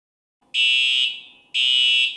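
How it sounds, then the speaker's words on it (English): A loud electronic fire alarm sounds in two long, piercing tonal blasts separated by a brief fading gap. "If a fire alarm sounds, do not leave your safe location"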